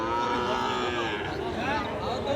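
Sahiwal bulls, farm-suited cross-border stock, mooing at a busy cattle market, a steady bellowing drone over dense crowd noise with people talking throughout.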